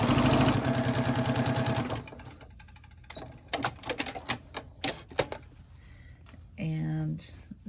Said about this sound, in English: So I am just going to sew this together here